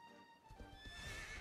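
A horse in the video game Dragon Quest XI: Echoes of an Elusive Age lets out a brief, faint neigh with a hoof clop, heard alone without talk.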